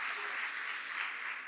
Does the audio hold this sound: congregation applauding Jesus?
yes